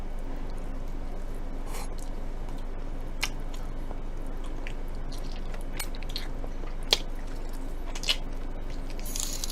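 Someone eats braised pork trotters (jokbal), with soft, wet chewing and occasional sharper bites over a steady background hiss, close to the mic and without speech.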